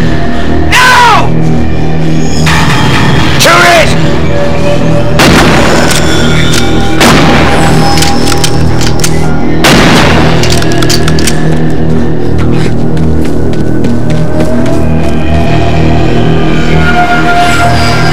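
Several loud, sharp gunshots crack out at irregular intervals in a 1989 film, with shouting voices between the blasts and a lingering ambient tail.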